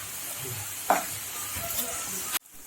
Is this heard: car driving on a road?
no